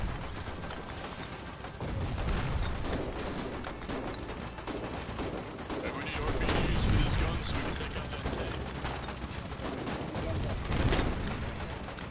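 Sustained bursts of gunfire and heavy shelling rattle through a Foxhole warfare game battle, with dense overlapping shots and booms continuing for the whole stretch while a player exclaims in the background.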